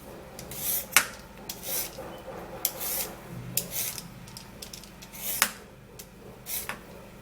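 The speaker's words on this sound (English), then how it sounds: "You're going to first of all peel your carrots." Carrots being peeled by hand: soft repeated scraping strokes in an irregular rhythm, with small clicks, close and quiet.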